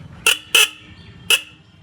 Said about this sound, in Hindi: दूसरा इसका हॉर्न है